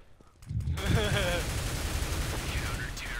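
Rapid bursts of automatic gunfire in Counter-Strike: Global Offensive, a dense rattling volley starting abruptly and continuing loudly throughout, with game voice chatter and sound effects mixed in.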